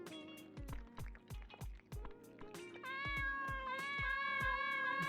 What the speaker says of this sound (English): It's my cat.